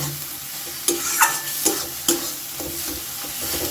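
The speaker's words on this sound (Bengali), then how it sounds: "ভাজা ভাজা করে নেব" Spices sizzling in a pan for egg tadka, with several sharp scraping stirs at irregular intervals, close and fairly quiet, no voices.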